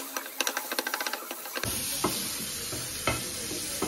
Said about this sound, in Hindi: अब मैं इसमें डालूंगी टमाटर, पकाऊंगी ज्यादा नहीं, थोड़ी देर पकाना है।